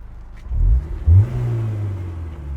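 A 2001 Honda S2000 engine revs up twice in quick succession into VTEC, a close, deep rising growl that settles into a sustained drone.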